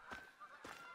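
Goose in a hunting video game gives two faint, distant honks about half a second apart.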